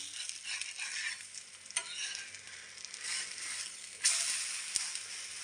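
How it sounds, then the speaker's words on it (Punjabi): A cauliflower chilla frying in a pan gives a soft, steady sizzle, broken by a few sharp scrapes and clicks as it is flipped, with a louder burst of sizzling near the end and no talking. "ਹੁਣ ਆਪਾਂ ਇਹਦਾ ਪਾਸਤਾ ਪਲਟਾ ਦਿੰਨੇ ਆ"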